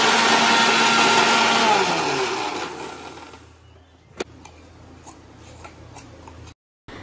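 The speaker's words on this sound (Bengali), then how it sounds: "মা এদিকে মিক্সিতে কাজু আর চারমগজটা পেস্ট করে নিচ্ছে" A kitchen mixer grinder whirs loudly as it grinds cashews and melon seeds into a paste, a steady motor whine that winds down and stops after about four seconds, followed by a few faint clicks and taps.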